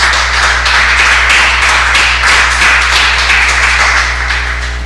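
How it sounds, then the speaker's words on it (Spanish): Church congregation clapping in praise during a sermon: steady, loud, continuous applause over a constant low hum, with no talk. "Dale un fuerte aplauso al Señor entonces"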